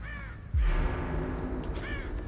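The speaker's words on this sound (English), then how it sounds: "I heard a crow actually over to my right" A crow caws twice in Dead by Daylight, first at about half a second and again near the end, with some rumbling game ambience between the calls and no voices.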